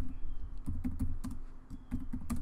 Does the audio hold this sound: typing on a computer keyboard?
yes